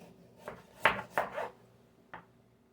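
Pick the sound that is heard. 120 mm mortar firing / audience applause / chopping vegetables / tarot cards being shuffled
chopping vegetables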